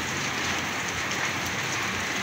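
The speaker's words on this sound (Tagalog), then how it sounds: "Biglang bumuhos ang ulan." Heavy rain pours down steadily in a dense, even hiss of drops drumming on surfaces, loud and continuous throughout with no voices.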